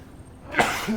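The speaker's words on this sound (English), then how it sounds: "That was a sneeze for me." A single short sneeze bursts out sharply after a moment of quiet, close and fairly loud.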